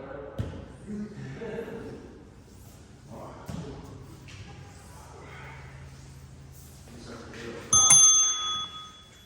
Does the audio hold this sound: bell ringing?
yes